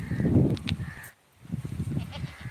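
A goat standing close by gives a short bleat and a sneezy snort outdoors, loud and near, broken by a brief pause before more rough animal noise returns.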